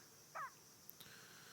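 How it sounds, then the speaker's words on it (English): A single bird call on the Ancient map in the video game CS:GO, one brief hooting cry, faint and somewhat distant, followed by a couple of tiny clicks over a quiet ambient hum. "Sounds of the birds"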